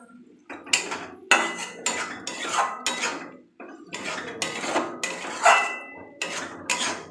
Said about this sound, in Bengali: এবার মশলাটাকে আমি অনেকক্ষণ ধরে কষাবো